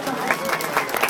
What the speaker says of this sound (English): let's give that guy a round of applause